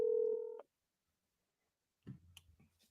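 A single telephone keypad tone sounds clearly for about half a second while a call is being placed, followed by silence and then faint muffled noises.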